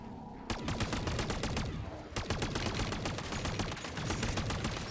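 A gun fires in the Modern Warfare 3 Zombies video game, with rapid, loud shots in dense automatic bursts, broken by a brief pause before the firing resumes.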